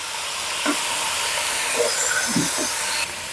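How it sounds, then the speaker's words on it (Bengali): Beef pieces frying in a pan over medium-high heat give off a steady, close broadband sizzle and hiss with a few soft clicks, cutting off abruptly near the end. "এবার আমি মাংসটা ভেজে নিচ্ছি।"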